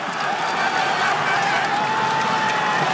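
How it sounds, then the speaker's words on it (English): A huge roadside crowd at the top of a cobbled climb in the 2011 Tour of Flanders cycling race claps and cheers, a dense, continuous wash of applause and voices at steady loudness. "Huge crowd at the top of the climb"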